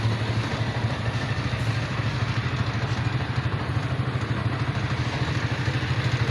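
A motorcycle engine runs steadily on a rural farm road, a close, loud, even mid-pitched putter with a rapid pulsing rhythm and a faint clatter, with no talking.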